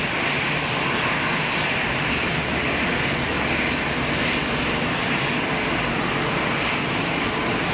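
An EasyJet Airbus airliner landing at Geneva Airport, its engines giving a loud, steady, broad roar that holds for several seconds without a break.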